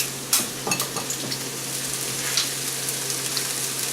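Bacon and vegetables frying slowly in a skillet, a continuous close sizzle with a few sharp scraping taps of a utensil stirring the pan near the start, no voices.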